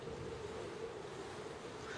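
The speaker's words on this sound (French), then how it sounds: "Et le vent s'est un peu levé aussi." Wind rising at night outdoors, a low, steady rushing roar with gusty buffeting against the microphone, faint and continuous throughout with no voices.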